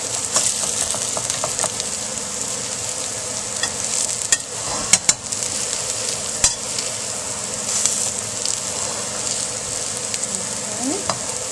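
Egg foo young patties fry in a pan with a steady, bright sizzle that runs unbroken, dotted with occasional sharp pops and light clicks, and no one speaking.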